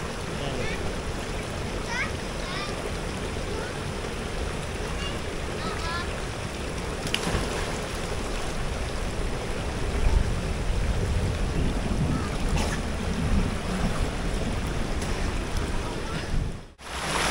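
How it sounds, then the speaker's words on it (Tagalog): Steady broadband hiss of falling rain in San Pablo City, Laguna, continuous and fairly loud throughout, with occasional faint voices and bumps underneath. "Napatak na naman ang ulan."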